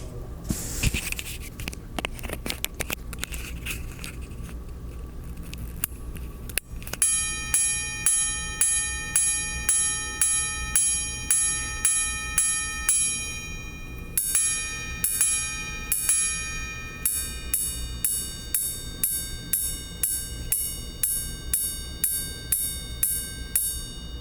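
A Patek Philippe 5016R minute repeater in a bigger case strikes its cathedral gongs, giving a long run of bright, ringing metallic chimes in regular patterns, the struck notes sustaining over each other and fairly faint against a soft background hiss.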